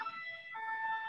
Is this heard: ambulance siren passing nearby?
yes